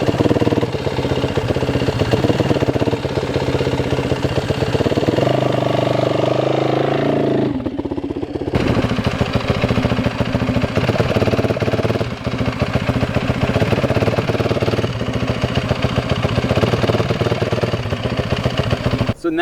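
A dirt bike engine runs steadily and loudly up close while the rider works the clutch, inching forward and stopping; the engine note shifts and dips briefly midway, then settles back into a constant rumbling drone.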